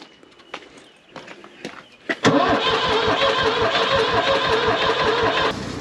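A New Holland skid steer engine, bought cheap at auction, catches after a few clicks and clunks, then runs at raised throttle with a loud, steady, chugging roar up close.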